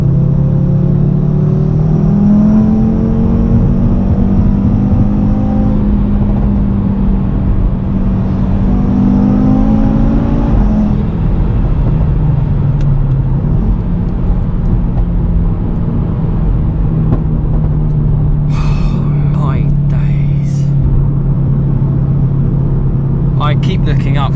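An Audi RS3 with a Stage 2 tune drives a smooth mountain pass, its engine droning steadily, rising and shifting through gears. Someone talks continuously over the engine noise.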